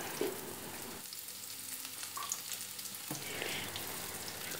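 Onion and garlic sauté in hot cooking oil, a close, continuous hiss and crackle of frying with a few faint stirring scrapes and a slight lull midway.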